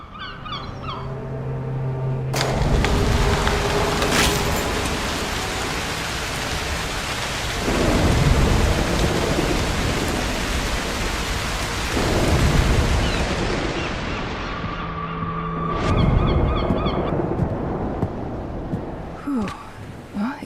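A thunderstorm in the game Broken Pieces, with steady heavy rain and several loud rolling thunder cracks that swell and fade, plus faint bird calls at the edges.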